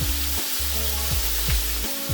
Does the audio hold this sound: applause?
no